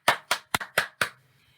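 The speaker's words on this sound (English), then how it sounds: "So if I say clap loudly" Five loud, sharp hand claps ring out close by in quick succession, evenly spaced, each a crisp burst that decays fast, followed by brief quiet.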